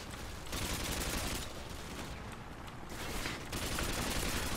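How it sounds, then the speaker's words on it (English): Dense, sustained gunfire rattles through a Call of Duty: Modern Warfare 2 battle. Many overlapping shots pour in as a continuous volley, briefly thinning in the middle before surging again. "Oh god, they're all shooting at me."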